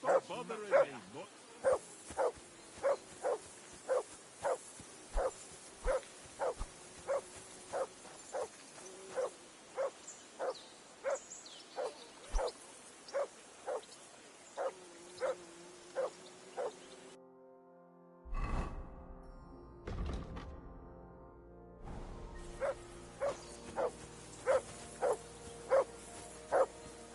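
In the video game Kingdom Come: Deliverance II, the dog Mutt gives a long series of regular, evenly spaced barks and whines. A break of other noise interrupts the sequence before the barking resumes.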